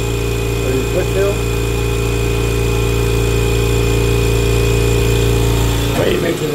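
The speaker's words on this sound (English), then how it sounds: "you make sure the air compressor turns off" An air compressor drones loud and steady while refilling a fire sprinkler dry pipe valve, a constant mechanical hum that ends abruptly with a clatter near the finish.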